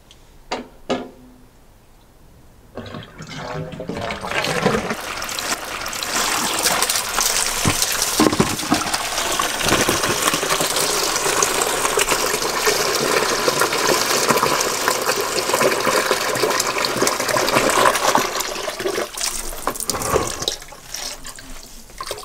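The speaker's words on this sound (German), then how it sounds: "wir füllen jetzt das Waschbecken einmal mit Wasser und lassen es unten rauslaufen" A washbasin being filled from the tap and drained out through its pipes during a leak test after installation, a steady loud gush of running water lasting most of the time after a short quiet start.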